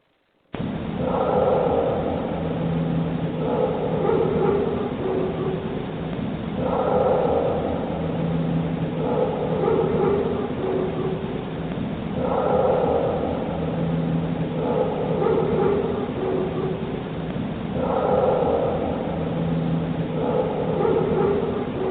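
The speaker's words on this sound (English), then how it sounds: "in the background, you can hear the roar, the end of the roar as the dog begins to bark." A low roar recorded in the Uwharrie forest at night, followed by a dog barking, repeating in a steady cycle of loud bursts over a constant noisy background hiss.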